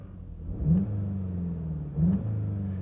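A 2020 Volkswagen Jetta GLI with a manual gearbox, switched to sport mode, revs its engine twice from idle, each blip a quick rising growl that settles back to a steady close hum between them.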